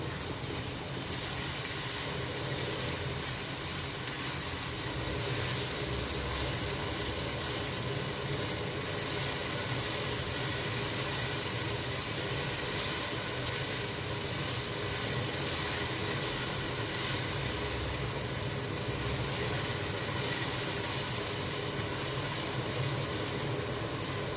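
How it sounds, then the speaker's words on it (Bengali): Garlic sizzles in oil in a pot at the start of a papaya beef curry, a steady, dense frying hiss that continues evenly throughout, close by, with no voices. "দিলাম রসুন, একটু ভেজে নিব।"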